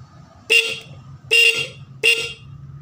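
The horn of a Honda Beat fuel-injected motorcycle sounds three times, each a short loud beep about a second apart, over a faint background hum.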